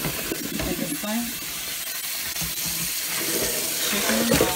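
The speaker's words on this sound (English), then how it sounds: "I'm taking my chicken and all the nasty, and I'm just dumping it all in the sink" Cooked chicken and its cooking water poured from a pot into a kitchen sink, a continuous rushing splash with gurgles, close and fairly loud throughout.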